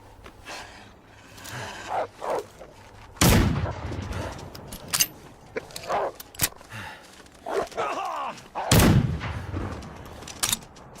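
Sharp, loud gunshots from a gun in the Wintermute video game, fired singly and spaced a few seconds apart, with quieter game noises and a dog barking between them.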